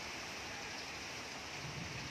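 Steady rain falls outdoors as an even, dense hiss that fills the whole moment, with no voices over it.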